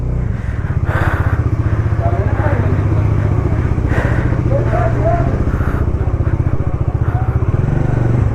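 A motorcycle rides along the Srinagar to Sonamarg road on a Ladakh trip, its engine a steady, loud, continuous drone close to the mic, with no pauses across the ride.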